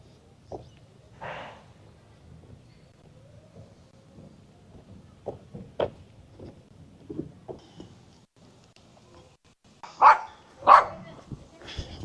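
A dog on a farm in the Philippines barks in scattered single woofs, some near and fairly loud, with two stronger barks toward the end and quiet gaps between.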